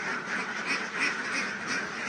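A dense flock of young laying ducks quacks continuously inside a duck house in Ubon Ratchathani, the overlapping calls loud and close, with a faint voice beneath.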